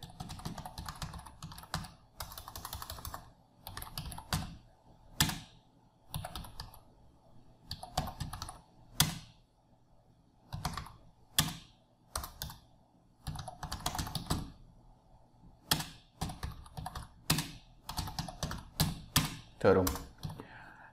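A laptop computer keyboard is typed on in uneven bursts of close, crisp keystrokes. Quiet pauses separate the runs, and the tapping grows busier toward the end.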